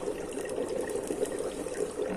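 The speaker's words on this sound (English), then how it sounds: "What I'm going to do is to drop in a handful of dry ice" A handful of dry ice dropped into liquid, bubbling and fizzing steadily with a continuous watery gurgle, close and moderately loud, no talking.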